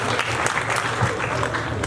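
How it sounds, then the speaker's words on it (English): Conference audience at a Rotary district gathering applauding together, a dense, even burst of clapping lasting about two seconds with faint voices mixed in. "Give him a hand of applause"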